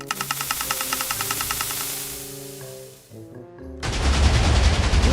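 Cannon gunfire in a video game. Repeating pulsing game tones play first, then after a short gap a loud, dense burst of blasting noise takes over and continues to the end.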